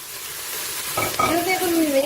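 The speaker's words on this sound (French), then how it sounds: "Je vais remuer." A spoon stirs browned beef and onions with flour and brown sugar in a Cookeo multicooker for a Flemish carbonnade, a soft scraping swish over a steady sizzle.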